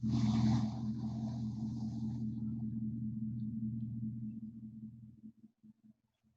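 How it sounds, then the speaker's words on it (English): A pickup truck engine idling down after being revved during a GDI fuel system stress test at a technical institute's research shop, a steady low rumble with fading high hiss that drops off and sputters out near the end. "I'll give Jeff's truck a break and turn that back down again."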